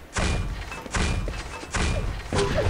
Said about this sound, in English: Oh, direct grenade.